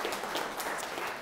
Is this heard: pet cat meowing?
no